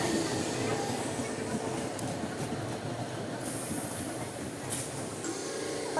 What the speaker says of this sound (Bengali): 11টা 18 ঢুকছে ট্রেন